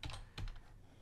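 Computer keyboard keys are pressed twice in quick succession during game development work. The taps are close, clicky and fairly quiet, with nothing else around them.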